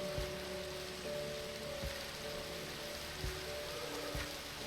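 Steady rain falling in a video game, a continuous soft hiss with occasional heavier drops and faint low tones running underneath.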